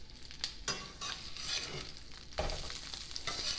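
Salisbury steak patties frying in a pan, with a crackling sizzle that swells in bursts as they are put in and shifted, plus scraping and spattering close by and no one speaking.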